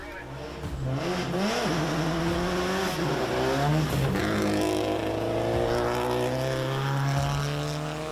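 A Subaru WRX rally car runs a forest stage at a rally in Tasmania, its engine note rising and falling through gear changes and revs, fairly close and prominent with a voice talking over it.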